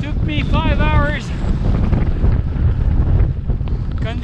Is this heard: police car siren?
no